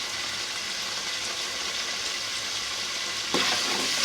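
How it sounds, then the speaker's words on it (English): Tomato frying in a pan with masala curry, a steady hiss of sizzling oil throughout with a slight stir or jump in intensity near the end, with no talking. "So you have to fry your tomato for some minutes before you proceed to the next step"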